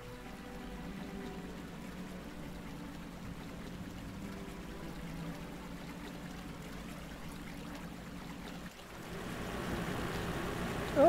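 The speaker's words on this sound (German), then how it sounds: "Guck mal, hier haben wir einen Fluss." A river flowing steadily in the farming simulation game Professional Farmer 2017, a constant rushing wash of water at moderate volume that grows slightly louder toward the end, with no voices.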